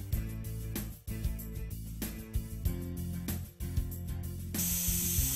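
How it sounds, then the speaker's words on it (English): Steady air hissing from a tire valve stem after the valve core is pulled, a loud continuous rush close by with slight fluctuations and a brighter surge near the end. "Let all of the air deflate out of the tire."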